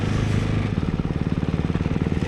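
A new motorcycle engine running steadily while riding in second gear with the throttle released, a close, even mid-pitched putter with regular pulsing firing beats that settle into a steady rhythm after a brief smoother start.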